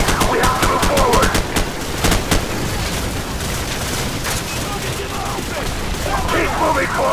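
Rapid automatic gunfire in the Call of Duty 4 mission The Bog: dense bursts of sharp shots at first, then scattered reports over a steady battle din, with shouted voices mixed in.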